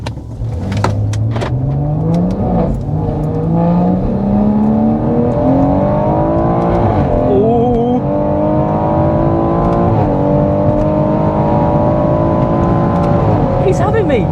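Stage 2 BMW M140i tuned to 500 horsepower drag racing a 450 horsepower BMW M2, engine noise climbing steadily through gears with shift dips, loud and close inside the car.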